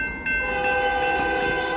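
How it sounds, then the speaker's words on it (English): A CPKC freight train passes close by, a steady loud rumble with sustained tonal horn-like and wheel-squeal bands running throughout, without talk. "Same train."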